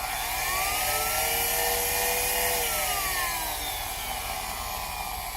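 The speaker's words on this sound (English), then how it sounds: "that's the new Dremel tool that I got. I'd say that actually works pretty good" Chicago Electric Dremel-type rotary tool spinning at its second speed setting, a steady high-pitched whine with a gently wavering tone, close and continuous for several seconds without talk.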